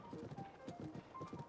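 A gold horse galloping in Zelda: Tears of the Kingdom, its hooves beating a rapid, even clip-clop rhythm at moderate volume over soft game ambience.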